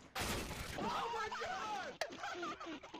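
Video game gunfire cracks loudly at the start, then a single sharp shot lands about two seconds in, while a player talks over the game sounds.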